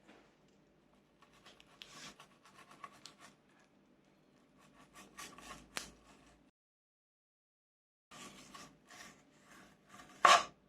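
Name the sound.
knife cutting seabass skin from fillet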